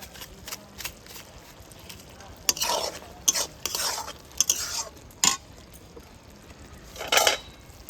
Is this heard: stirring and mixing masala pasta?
yes